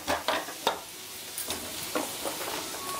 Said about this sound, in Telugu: ఇది కొంచెం దోరగా వేగాలి.